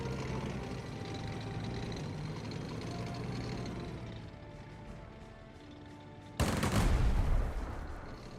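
Tank battle in the Strategic Mind wargame, a steady rumble of distant gunfire and engines followed by a loud, close explosive burst near the end.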